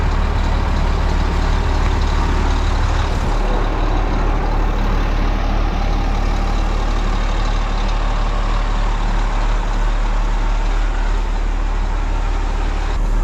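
A dual-wheeled tractor mows down a cornfield, its engine a loud, constant, close diesel drone with heavy low-end rumble throughout, no talk over it.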